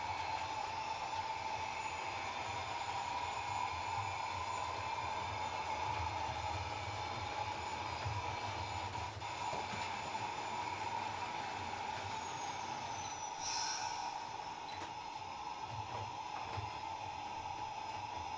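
A model train with Hornby coaches, pulled by a GT3 locomotive, runs over a switch and wobbles a little. It makes a steady, close whirring rumble throughout, with a brief squeal near the end.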